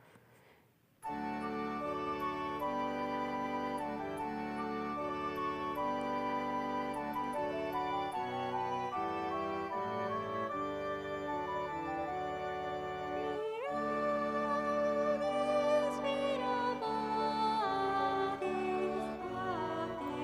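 Steady, dense instrumental festival music from the video game Harvest Moon: Back to Nature, with layered melody and sustained tones, playing continuously at moderate volume without voices.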